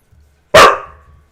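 A single loud, sharp dog bark rings out close up with a short decaying tail, following near silence and faint low rumbling.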